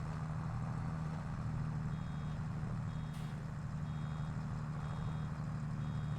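A farm tractor reverses with evenly spaced electronic beeps over the constant low rumble of its engine, close and steady throughout, with no voices.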